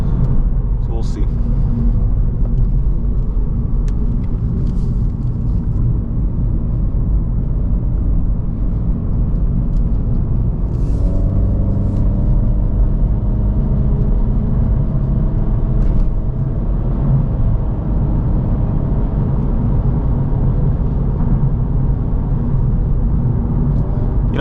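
A 2023 Acura Integra A-Spec cruises along Pescadero Creek Road, its steady engine hum and road rumble continuous beneath someone talking inside the cabin.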